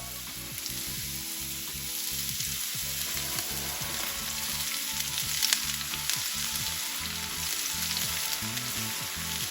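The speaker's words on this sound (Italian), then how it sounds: "Mettiamo un po' d'olio d'oliva in una padella e dopo che si sarà scaldato possiamo aggiungere i porri." Chopped leeks frying in heated olive oil in a pan, a steady close sizzle and crackle running the whole time with faint stirring, no voices.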